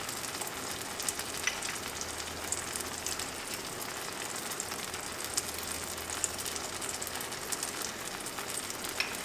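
Eggs for a tomato omelette with green onions cook in a covered pan, giving a continuous, even crackling sizzle, moderately quiet and close, with no voices.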